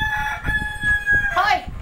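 A rooster crows at midnight with one long, close cock-a-doodle-doo that rises at the end, over a low background hum.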